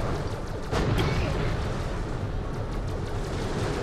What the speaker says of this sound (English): I'm just shooting at him and his minions. Really, it's like minor explosions.